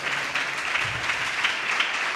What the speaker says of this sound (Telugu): యేసయ్యకు ఒకసారి చప్పట్లు కొట్టరాదండి?